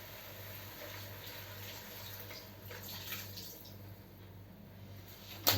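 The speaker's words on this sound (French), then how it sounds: "Et maintenant, je vais y rajouter le vin blanc" White wine poured into a pot of veal sauté with bacon and button mushrooms, heard as a steady, soft liquid pour and splash that continues throughout, close by and without speech.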